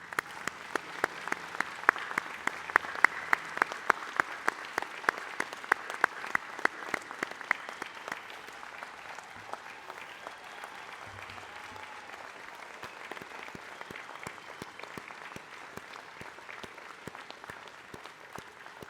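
Graduates at an engineering faculty ceremony receive a long round of applause from a large audience, dense steady clapping that stays strong at first and then eases slightly while continuing to the end.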